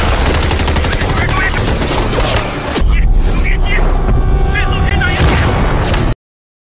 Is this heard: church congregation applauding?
no